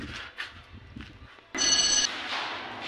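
An electronic telephone ring cuts in abruptly, a steady warbling tone lasting about half a second, loud against background chatter and rustling.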